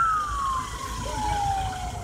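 Emergency vehicle siren wailing in a single slow falling tone, steady and moderately loud over low road rumble, at the scene of a morning bus traffic accident.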